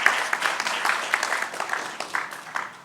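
Fairly sparse audience clapping at a panel discussion on D2C brands, soft scattered applause heard from a distance in a room, fading gradually with uneven claps.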